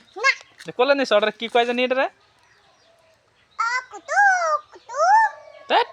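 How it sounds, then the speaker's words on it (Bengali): A young goat bleats in several short, wavering cries close by, with a person talking at the start and between the calls. "ছাগলের বাচ্চা না এটা।"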